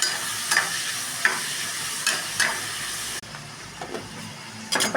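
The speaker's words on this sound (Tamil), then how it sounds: "இப்போ ஈரலை போட்டு வதக்கி விடுவோம்" Liver sautéing in a pan with salt, a steady close sizzle broken by a few sharp stirring scrapes, briefly quieter midway before the frying and stirring pick up again.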